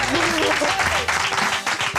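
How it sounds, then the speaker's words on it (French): Studio audience applause for a dating-show contestant, dense continuous clapping mixed with cheering voices and a music bed, loud and close throughout. "Applaudissements pour Pascal!"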